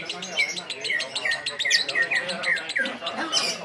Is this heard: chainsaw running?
no